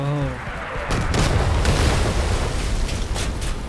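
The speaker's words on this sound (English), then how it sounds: "Mortars. I'll show you mortars." Mortar rounds from a combat vehicle in the game Crossout fire and land with a heavy boom, followed by a long rumbling, crackling blast that lingers loudly.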